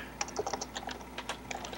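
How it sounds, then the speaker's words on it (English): Keyboard keys tapped in short irregular bursts while a slash command is typed during a Minecraft-style game session, close and fairly crisp with no one talking. "I'm just typing in /creative"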